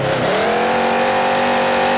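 Monster truck engine at a Monster Jam arena show in Indianapolis, roaring loud and continuous with a rising rev, unmuffled and close, filling the whole stretch with no talk over it.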